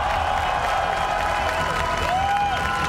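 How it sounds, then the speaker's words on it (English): A large arena crowd at the Dota 2 Riyadh Masters 2024 esports finals applauds the champions in a steady, dense wash of clapping and cheering, with a whistle-like tone rising and falling over it. "please, a round of applause for your champions!"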